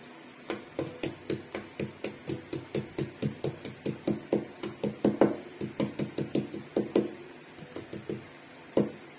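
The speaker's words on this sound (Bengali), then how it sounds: "স্ম্যাশ করার জন্য আমার কাছে হামানদিস্তার এইটা আছে না" Ginger gets pounded in a metal mortar and pestle, a run of sharp, evenly spaced strikes about two or three per second, close and loud, continuing through the whole stretch without talk.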